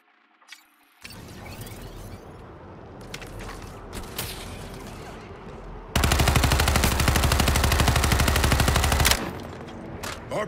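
Gunfire in the video game Suicide Squad Kill the Justice League: scattered shots and mechanical clatter give way to a loud, sustained burst of rapid automatic fire lasting a few seconds, then a sudden drop.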